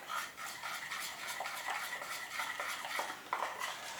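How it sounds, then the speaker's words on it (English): A tablespoon stirs a thick lemon icing mixture in a bowl, giving soft continuous scraping with light clicks, quiet and close with no talking. "Obviously you don't want lumps of icing mixture in your icing, but if you just keep stirring it, it'll all go"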